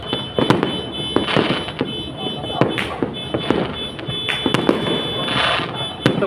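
New Year's Eve fireworks explode nearby as a series of sharp, loud cracks and bangs at irregular intervals over a constant crackling, hissing background.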